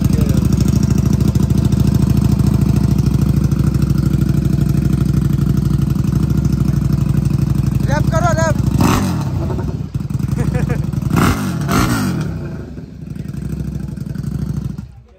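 A KTM 1190 RC8 R superbike engine runs loud and steady at idle for several seconds, then gives a few sharp revs that rise and fall before settling lower near the end.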